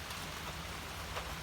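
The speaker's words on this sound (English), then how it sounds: "Sitting here just listening to the rain." Steady rain falling, a dense, close hiss of drops on surfaces with no pauses, heard alone without voices.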